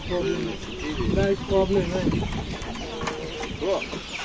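Domestic chickens and chicks cluck in repeated short bursts at a busy poultry market in Bishkek, with crowd chatter and voices mixed in throughout.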